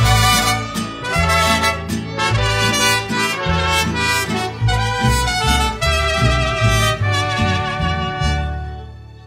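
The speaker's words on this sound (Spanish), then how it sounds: "Esto suena así con mariachi." Mariachi band playing a song live at a concert in San Pedro Garza García, loud and full with brass, strings and steady rhythmic strumming throughout, no talking.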